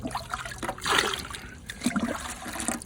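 A grouting sponge dipped into a bucket of water while making a glass mosaic wall, giving close, short trickles and light splashes of dripping water over a couple of seconds.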